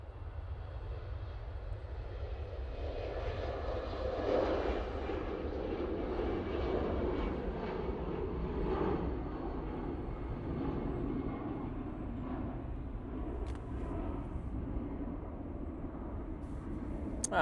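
A jet airliner departing Manchester Airport on a positioning flight gives off a continuous, fairly distant engine roar that swells and fades gently over several seconds, with a faint sharp click near the end.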